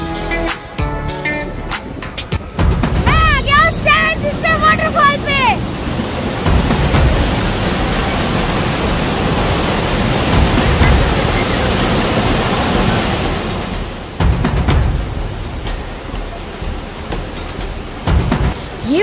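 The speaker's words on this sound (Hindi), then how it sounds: "ये वाटरफॉल 7 स्टेप में नीचे गिरता है, इसलिए इसको 7 सिस्टर वाटरफॉल कहते हैं।" The Seven Sister Waterfall in Lachung, Sikkim, a multi-step cascade, roars as a loud, continuous broadband rush close by, with brief wind buffeting and some faint tonal sounds early on.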